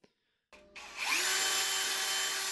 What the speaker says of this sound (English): we're just going to drill straight through that hole